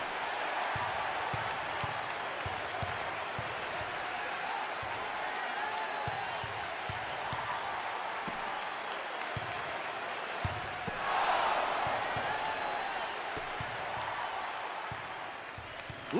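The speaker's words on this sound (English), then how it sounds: "Listen to the crowd. You can cut the intensity with a knife. It's crazy in here" Loud, steady crowd roar filling a basketball arena during an SEC Tournament first-round game between Ole Miss and South Carolina, with a swell of cheering near the end and faint court thumps beneath.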